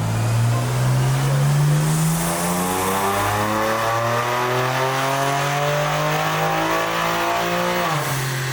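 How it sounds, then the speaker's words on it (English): A tuned BMW G87 M2 with aftermarket intakes revs on a dyno through a long, loud, climbing engine pull. The roaring exhaust note rises steadily for about eight seconds before dropping off abruptly. "We're just gonna go ahead and dyno the car on map 0 right now to see, you know, how it performs with just the intakes."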